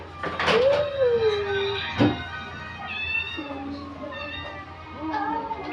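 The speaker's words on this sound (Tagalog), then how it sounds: "Meow." A cat meows several times in drawn-out, rising and falling calls, close by, with soft household noise in the background.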